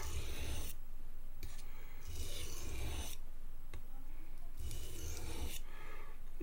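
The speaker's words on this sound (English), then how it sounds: "I tend to do a lot of the two-handed honing" A 1980s Gerber 350ST knife blade is honed with two-handed strokes, giving close, dry rasping sweeps in repeated bursts with short pauses between them.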